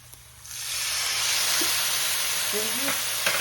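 White cooking wine hits a hot pan of chicken cacciatore and bursts into a loud, steady sizzle that rises after half a second and holds as a bright, continuous hiss.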